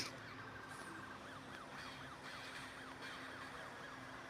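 Police siren in the mobile racing game Need for Speed No Limits, a faint, steady wailing siren sweeping up and down over a low engine hum.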